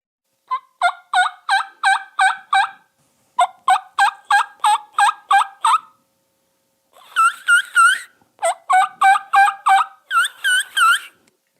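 A handheld turkey mouth call played without hands mimics wild turkeys in four loud, close bursts of rapid, evenly spaced yelping notes, each run of about six to eight calls separated by brief pauses; no talking.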